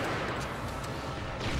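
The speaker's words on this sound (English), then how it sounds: "the Goliath S Custom is an extremely powerful, wide range explosion sort of deal" A Goliath S Custom rocket launcher in Global Defence Force sets off powerful, wide-range explosions, forming a dense, loud, continuous roar with a few sharper crackling hits.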